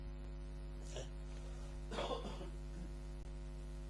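Two short dry coughs from a person with a dry throat, one light and one heavier, sound close by over a constant low electrical hum in a quiet room.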